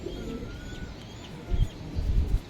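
Giribaz pigeons coo softly at close range in a steady low murmur, followed by a few louder thumps and rustles near the end.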